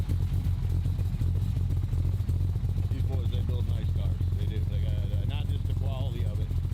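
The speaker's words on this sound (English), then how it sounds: "Big block 427, you gotta love that. Nice cam, sounds good." A 1966 Chevrolet Impala SS with a 427 big block V8 and an aggressive cam idles loudly at a car show, its deep lumpy rumble steady throughout while someone talks over it.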